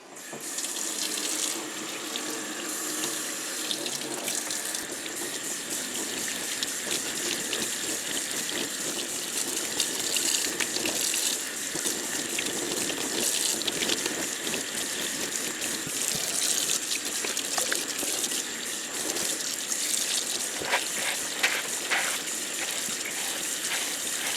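Tap water runs steadily into a sink while ice-dyed fabric is rinsed under it, a loud, continuous splashing gush from close by, with no voices.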